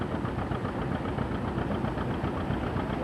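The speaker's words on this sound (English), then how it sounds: "He's dug in with a load now with another John Deere tractor that he and Denis have restored" An engine of a restored John Deere tractor working under load at a threshing demonstration on a farm, running steadily with a dense, continuous mechanical chug and vibration.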